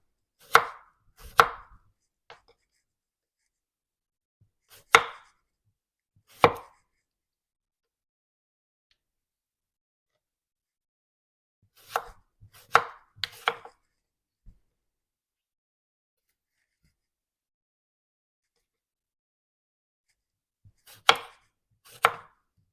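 Knife slicing an English cucumber into rounds on a cutting board, sharp close chops in short clusters of two or three separated by long silent gaps, no talking.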